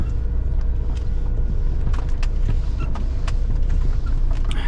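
Truck pulling out of an unloading yard after delivering lime, a loud steady engine rumble with road and wind noise, close to the cab and unbroken throughout.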